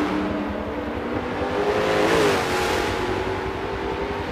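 A Koenigsegg Agera race car in Forza 7, racing at Circuit de Catalunya, drones with a loud sustained engine note that swells briefly near the middle as it revs, with no talking over it.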